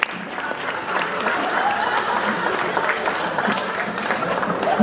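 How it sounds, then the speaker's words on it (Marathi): A large audience claps loudly and continuously, giving a dense, steady wash of applause with no pause. "जोरदार टाळ्या"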